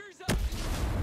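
A grenade explodes in the video game Ghost Recon Breakpoint, a single sudden loud blast after a moment of quiet, its rumbling roar sustaining and slowly decaying to the end.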